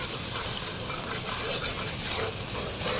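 Chicken and potato curry masala being fried in a pan, a dense continuous sizzle with stirring, loud and close throughout the short stretch, no voice over it.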